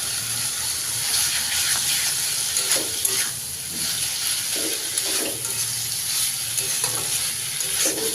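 Steady, loud oil sizzle with stirring scrapes as fried pointed gourd goes back into a hot pan for a curry with ground jackfruit seeds, continuous and close with no talk.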